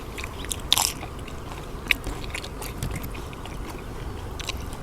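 Someone chews tough sliced beef in Thai soi ju, a raw beef dish, close to the mic: a few faint, crisp bites and crunches over a quiet room, with no talking.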